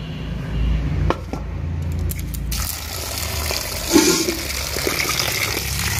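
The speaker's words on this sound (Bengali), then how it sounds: "মাছটাকে এখন হচ্ছে ভালো করে একটু ধুয়ে নেবো" Water rushes and splashes steadily outdoors as a tilapia fish is rinsed, a loud continuous gush with small clatters and shifts in the flow throughout.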